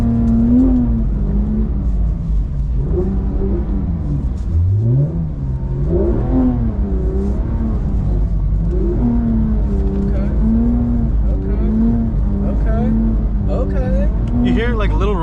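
A 2024 G82 BMW M4 Competition xDrive rumbles loudly from inside the cabin while driving, its engine note rising and falling steadily throughout, with people talking over it.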